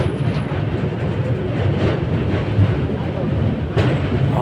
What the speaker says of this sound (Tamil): ஆக்ராவை நோக்கி ரயில் போயிட்டுருக்கோம்